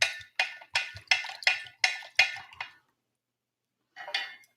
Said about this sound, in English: And I'm just going to stir it around.